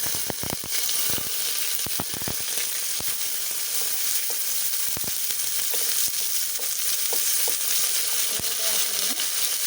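Onions and green chillies frying for tomato bath, a steady dense sizzle throughout with scattered sharp crackles and pops, close and continuous without talk.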